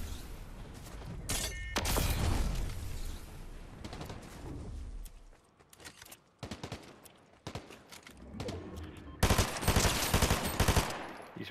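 Bursts of gunfire in the Fortnite video game as a player shoots down a wall, with sustained rapid volleys early on, scattered single shots in the middle, and a dense loud barrage near the end.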